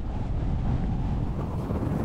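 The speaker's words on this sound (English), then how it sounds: "Wow, it is windy out here." Strong wind buffets the microphone outdoors near a mesa, a steady low roaring rumble filling the whole stretch with no voices.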